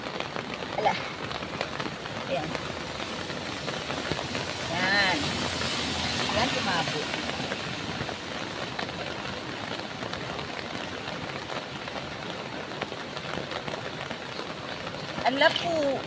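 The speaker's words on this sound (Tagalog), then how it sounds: "Tigil na ulan." Steady rain patters on surfaces throughout, a soft continuous hiss with faint brief sounds breaking through now and then.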